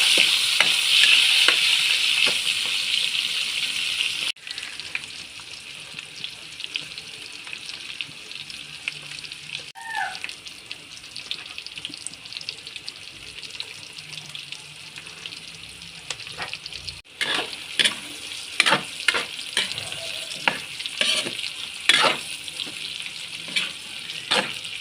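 Tomatoes hit a hot pan with toasted mung beans and sizzle steadily, with stirring scrapes and clatters of a utensil against the pan throughout and a brief drop in the frying hiss partway through.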